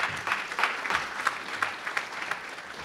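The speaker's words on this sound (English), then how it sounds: "So can we just clap hands and hand over to Peggy?" An audience claps steadily for about three seconds at a leadership conversation event, a fairly soft, even patter of many hands without voices over it.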